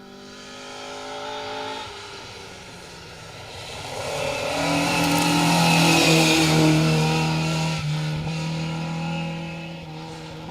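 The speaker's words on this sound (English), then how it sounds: "David Dobson and Brian Hodgson, they're in the 2-litre Escort. Car number 250" A 2-litre Ford Escort rally car on a stage, its engine note rising and swelling as it approaches, revving hard near the middle and holding a loud, steady drone as it passes close by.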